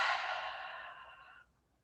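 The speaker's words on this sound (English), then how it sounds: "Loud, audible exhale through the mouth" A loud, breathy exhale through the mouth during a yoga breathing exercise, one long sigh-like breath fading out over about a second and a half.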